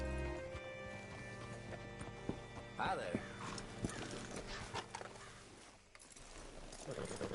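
In Red Dead Redemption 2, a horse's hooves clip-clop at a walking pace beneath a short spoken greeting, with game ambience and faint creaks of tack around it.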